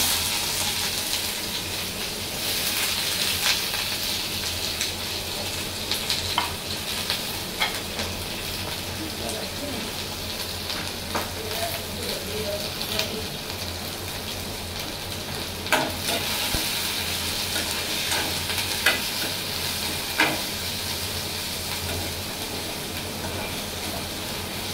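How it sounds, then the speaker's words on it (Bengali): Chopped onions fry in a little oil over medium heat for a potato bouya dish. A continuous close sizzle carries on throughout, with scattered sharp stirring clicks and pops. "এই যে পেঁয়াজগুলো ভাজবো"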